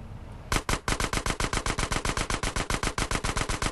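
Rapid automatic gunfire from GTA San Andreas bursts in after a quiet moment and continues as a steady, loud stream of evenly spaced shots for several seconds, with no voices over it.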